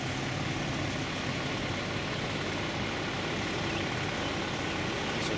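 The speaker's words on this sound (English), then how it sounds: "These are trucks at the Silver Lake rest area." Trucks idling and rumbling at the Silver Lake eastbound rest area on I-70 in Highland, Illinois, a steady low engine drone with faint traffic hum, moderately distant and unbroken, no voices.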